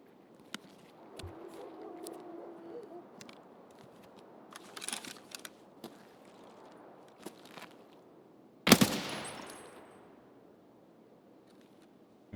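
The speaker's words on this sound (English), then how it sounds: "Where are they shooting me from?" Sparse gunfire in the shooter Escape from Tarkov: scattered sharp distant cracks, then one loud close shot with a ringing tail, over quiet ambient background.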